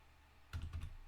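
A computer keyboard is struck in a quick burst of about five or six close, crisp keystrokes while a command is typed, following a brief quiet pause.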